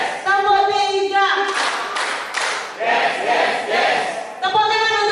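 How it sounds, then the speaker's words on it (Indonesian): A classroom group claps in unison during a clapping game, with short bursts of claps between loud shouted group chants. "Tepuk tangan untuk kita semua."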